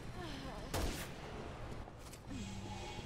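Gunfire in a multiplayer shooter video game: one sharp loud shot near the start, then a quieter background of game sounds and distant shots, with players talking over it.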